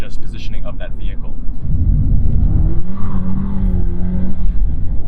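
A Porsche 981 Boxster GTS with a PDK seven-speed gearbox revs up close, its engine note dropping low and then holding a strong, rising drone that fills the scene after a brief higher-pitched start.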